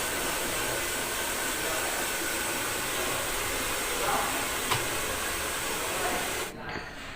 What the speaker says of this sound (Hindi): और अब ड्रायर हो रहा है।